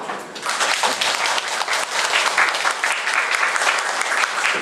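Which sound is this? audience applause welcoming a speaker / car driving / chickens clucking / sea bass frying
audience applause welcoming a speaker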